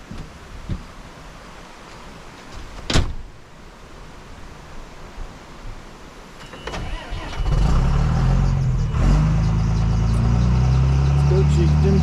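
During hurricane cleanup in Elk Park, North Carolina, an engine is started amid faint background noise. It catches and settles into a loud, steady, low rumbling run for the rest of the clip.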